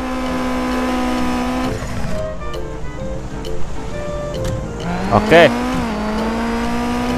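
Racing car engine in an Android racing game drones steadily with rising and falling pitch, a brief tire squeal near the end, while someone talks briefly over it.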